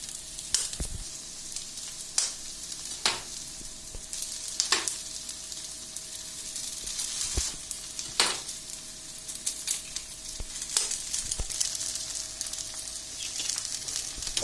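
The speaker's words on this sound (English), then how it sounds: "we'll break the eggs" Eggs sizzle as they fry with rice in a hot pan, a steady close crackle with occasional sharp clicks and scrapes from stirring, and no talking.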